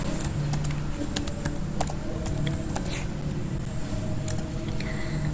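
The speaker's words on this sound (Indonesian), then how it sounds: "Kita ketikkan dulu titik P-nya." Computer keyboard keys are tapped in quick irregular bursts of crisp clicks at close range, with a low steady background hum and no voices.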